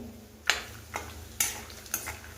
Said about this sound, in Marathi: तर चला, मी परतून घेते शेंगदाणे